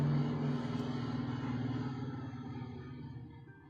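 A truck engine in the Driftwood visual novel video game, a low throbbing rumble with a steady idle-like pulse that starts loud and slowly fades as if pulling away, heard alone.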